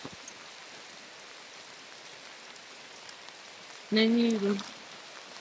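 Steady rain falls over an African village, a dense, even hiss that carries on unbroken throughout, with a short burst of a person talking close by near the end.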